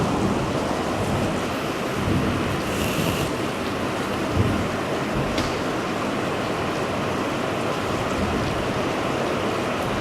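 Heavy rain pours steadily outside an open window during a church sermon, a dense, even wash of falling water that stays close and loud for the whole stretch with no voices over it.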